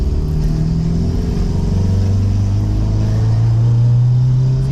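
A 1996–2000 Honda Civic with a swapped JDM B20B engine on the stock exhaust accelerates, a loud close-up engine drone whose pitch climbs steadily as the revs rise, with no talking.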